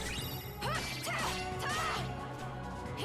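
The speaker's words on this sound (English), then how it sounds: "usually it's a bad thing when your Keyblade shatters" Keyblade shattering in the video game Kingdom Hearts Birth by Sleep, a bright crashing burst followed by sweeping, ringing effects and a couple of further impacts over a layered game soundtrack, with no talking.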